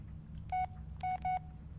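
Voicemail beeps on a phone call in the video game Blair Witch: three short electronic tones, one then a close pair, clear over a low steady hum.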